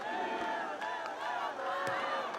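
Fans in the stands at a Brazil versus Austria beach volleyball world championship match chant in a rhythmic, sustained roar that rises and falls, with occasional sharp peaks.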